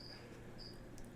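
Crickets kept as feed for a bearded dragon chirp faintly in the background, with a couple of short, high, steady trills over a low constant hum.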